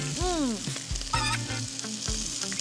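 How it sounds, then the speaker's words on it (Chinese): Hakka flat rice noodle sheets fry in a hot oiled pan, giving a continuous close sizzle broken by a few sharp clatters and scrapes. "它是用建筑美学方式在进行煎这个松板"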